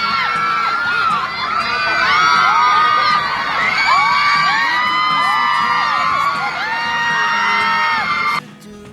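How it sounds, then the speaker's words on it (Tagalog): Fans at a Walk of Fame event scream and cheer loudly as two celebrities step out of a car, a dense, continuous crowd roar full of high shrieks and whoops that cuts off abruptly near the end. "hindi na magkamayaw ang sigawan ng kanilang mga fans"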